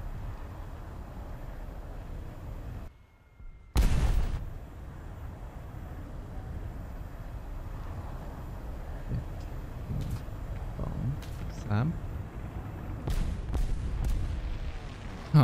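Muffled booms and blasts roll through a War Thunder air battle in an Alpha Jet, with one loud hit after a brief dropout and more thuds and cracks over a constant engine drone.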